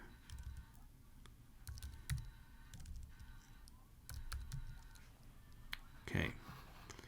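Fingers type on a computer keyboard in quiet, irregular bursts of soft clicks, with a few sharper, louder keystrokes standing out from the faint patter.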